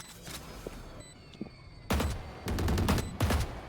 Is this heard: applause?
no